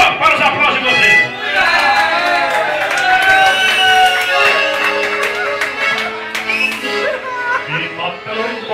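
A live concert crowd cheers and applauds as a guest singer is welcomed on stage, a dense wash of noise that rises and holds steady for several seconds with voices mixed into it.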